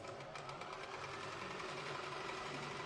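Steady, even whir of a sewing machine stitching pieces of a fur jacket together, running continuously at a constant pace with a faint rapid clatter, fairly quiet and heard alone without talk.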